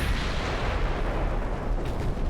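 A battleship's 5-inch naval guns in World of Warships fire in a dense, continuous roll of loud, booming blasts that blend into one heavy rumble with no pauses.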